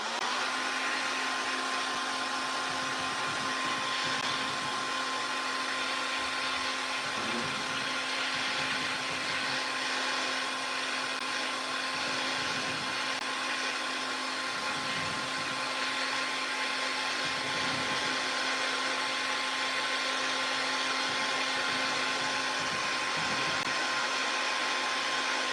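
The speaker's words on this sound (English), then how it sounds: "I'm tempted to give him a quick blast with the hairdryer." A handheld hairdryer blows steadily on a freshly painted hobby model, a continuous close airy whoosh with a faint motor whine and slight wavering as it is moved around.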